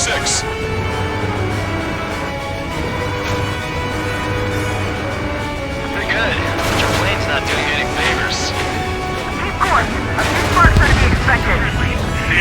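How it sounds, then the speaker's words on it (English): Missile launch and bursts of gunfire in Ace Combat 7 aerial combat, a steady engine drone building into louder crackling shots and a whooshing launch near the end, with radio voices talking over the action. "Missile launched."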